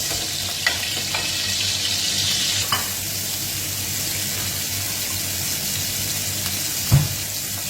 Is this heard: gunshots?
no